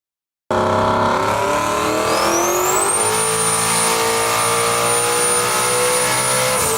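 Muscle car launching at a car show: a loud engine bursts to life and revs hard, pitch climbing steadily as it accelerates, then holding a sustained high roar with a crowd faintly behind.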